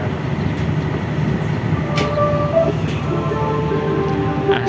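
Banyubiru passenger train bound for Semarang Tawang at Brumbung station, a steady continuous rumble of rail noise with faint tonal hums and a brief squeal, loud and close throughout.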